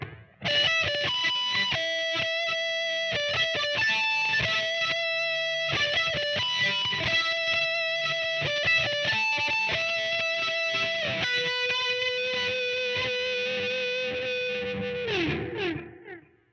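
A distorted electric guitar through a Line 6 POD HD500X plays an 80s-style melodic riff with sustained notes, washed in bright, shimmering plate reverb that rings out as it ends.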